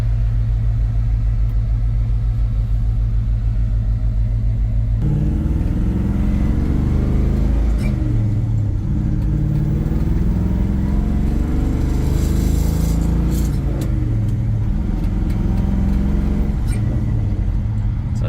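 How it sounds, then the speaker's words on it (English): An LS3-swapped 1957 Chevrolet Bel Air rumbles deeply while driving, heard from inside the car. The low engine note is steady at first, then rises and falls with throttle. "What an absolute beauty this car is. LS3 swapped."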